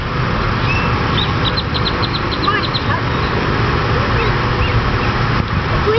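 A duck at a park gives a quick run of short quacks near the middle, with other bird calls and background chatter from people and outdoor ambience mixed in.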